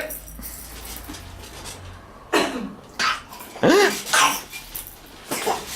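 An 11-month-old baby gives a few short coughs and throat-clearing sounds indoors, fairly close and moderately loud, with quiet background noise between them.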